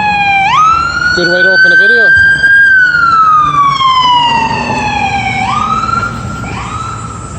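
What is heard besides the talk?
ambulance siren passing on a city street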